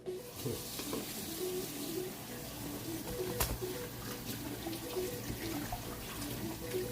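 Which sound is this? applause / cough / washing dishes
washing dishes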